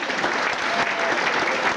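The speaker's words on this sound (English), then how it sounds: "Give her a round of applause" An audience at a magic show applauds a volunteer, giving brief, dense and steady clapping from many hands, fairly loud and unbroken across the whole moment.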